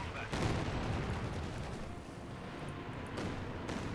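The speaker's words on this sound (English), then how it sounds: "Katyusha firing away there" Katyusha rocket artillery fires in Company of Heroes 2, a dense rumbling barrage of launches with sharp bursts near the start and again toward the end, steady and loud throughout.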